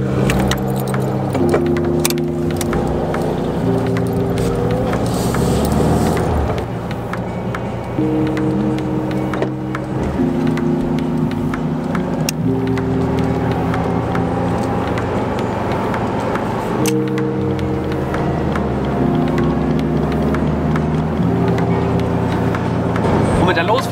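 An air-cooled VW Beetle and a VW T2 camper drive off together in convoy on the way to a Beetle meet in Hannover, engine droning and shifting through gears inside the car while someone talks over it.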